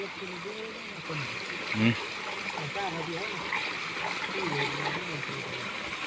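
In a Gujarat village field, water flows and gushes steadily for fertilizing an onion crop, a continuous outdoor stream heard under people talking throughout.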